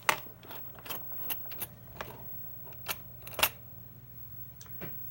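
A Sony turntable's stop mechanism engages and shuts the deck down: a close, dry run of small mechanical clicks, ticks and ratcheting snaps at an uneven rhythm, with no talking.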